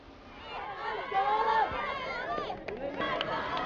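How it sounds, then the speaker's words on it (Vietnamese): Students cheer and shout together at a sports festival in Dai Nam, a lively crowd of overlapping voices rising and falling steadily for several seconds, with no clear words standing out. "Những tiếng hò reo cổ vũ hăng hái như thế này dường như đã xóa tan đi cái nóng nực của những ngày hè oi bức"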